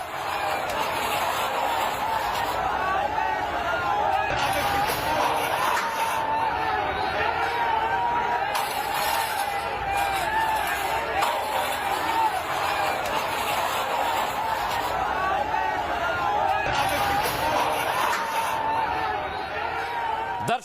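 Large crowd of protesting farmers after breaking through barricades toward the chief minister's house, a dense, steady roar of many voices chattering and shouting, loud and continuous throughout, with brief swells and drops.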